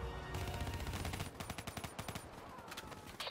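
Rapid bursts of automatic gunfire crackle in Call of Duty: Black Ops 3, a dense volley followed by a string of sharp, evenly spaced shots.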